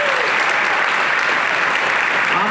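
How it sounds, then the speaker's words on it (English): Dense, loud crowd applause for hall of fame inductees at an Ozarks area racing banquet, a continuous roar of clapping filling the room without a break. "Let's give them a big round of applause."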